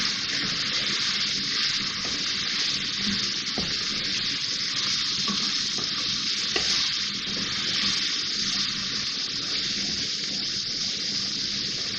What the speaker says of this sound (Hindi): मैं इसमें ये लहसुन अदरक का पेस्ट शामिल कर रही